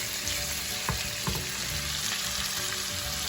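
Half a pound of shrimp with garlic frying in a pan, a steady loud sizzle throughout with a couple of faint stirring scrapes.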